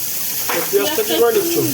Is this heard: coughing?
no